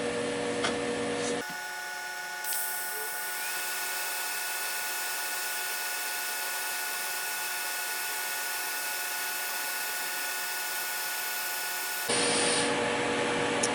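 A TIG welder works on a stainless steel star, giving a steady, even buzzing hum that runs unbroken for about ten seconds between louder shop noise at the start and end.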